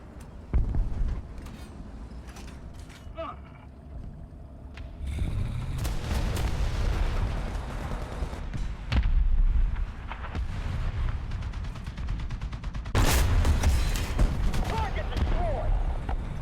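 Tank machine gun fire in War Thunder, the M41 and M551 light tanks in play, comes as loud bursts with booms and mechanical clatter, broken by pauses and rising in a heavy burst near the end, while a voice talks over parts of it.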